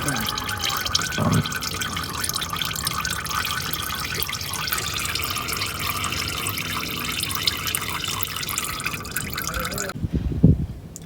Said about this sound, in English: it decided to leak its oil out.